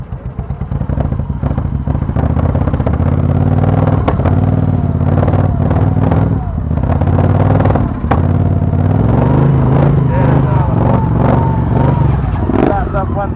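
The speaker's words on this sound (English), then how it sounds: "Here we go, 1979 Motor Guzzi 850 T3." A 1979 Moto Guzzi 850 T3 engine runs loud and close with a deep, throbbing idle and some clattering, rising in a few revs throughout.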